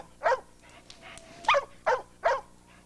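A year-and-a-half-old active dog barks four times in short, sharp bursts, fairly close and clear, with a quiet gap between barks and no talking.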